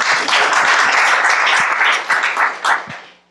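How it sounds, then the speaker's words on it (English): An audience at a lecture on climate change and cities claps for a faculty member seated in the front row: dense, loud applause that holds steady, then thins into a few scattered claps and fades. "We can also clap you"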